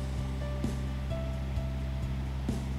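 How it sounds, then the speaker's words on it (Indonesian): A strong, rain-swollen river current flows at a local dam in Aimasi, West Papua, producing a steady, fairly faint rushing wash with no breaks. "Ini sepertinya untuk arusnya lumayan deras dikarenakan tadi sore itu hujan terus sampai tadi pagi."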